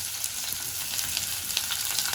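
Onion hits hot oil with whole garam masala for mutton pulao, giving a close, even sizzle and crackle with faint stirring ticks, no voices.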